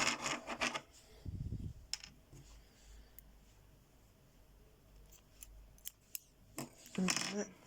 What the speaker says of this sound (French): Hop, on va couper notre fil.